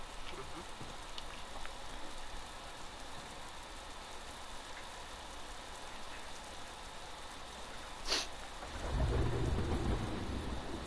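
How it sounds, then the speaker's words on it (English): Video game thunderstorm with steady rain hissing throughout, a sharp crack of thunder followed by a deep, loud rumble that swells toward the end. "That thunder actually sounds real."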